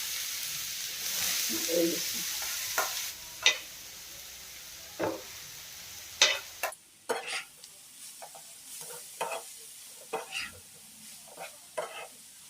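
Papaya sizzles in hot oil with panch phoron while a utensil stirs and scrapes the wok in irregular clacks, the frying hiss loud at first then quieter.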